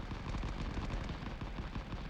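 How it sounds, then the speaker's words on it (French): Dense rapid gunfire and rattling machine-gun bursts with low booms in a World War II battle video game, continuous and fairly loud, no talk. "Et les explosions, les feux, les tirs des deux côtés."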